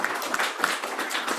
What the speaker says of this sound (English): Y'all might give him a round of applause.